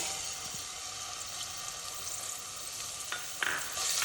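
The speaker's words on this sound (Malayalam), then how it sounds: "അപ്പം വെളിച്ചെണ്ണ ഒന്ന് ചൂടായ ശേഷം ഇഞ്ചി, വെളുത്തുള്ളി ഇത് ചതച്ചത് ഇട്ട് കൊടുക്കാം." Crushed ginger and garlic spit in hot coconut oil with a soft, even hiss, close by and fairly quiet. A couple of brief scraping stirs stand out near the end.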